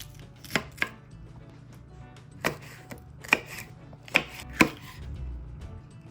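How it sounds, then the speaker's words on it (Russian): A knife chops red and yellow sweet bell peppers into pieces on a board, about six or seven crisp, separate thuds spaced irregularly over a quiet background, with no talking. "Красный и желтый сладкие перцы нарежем кусочками."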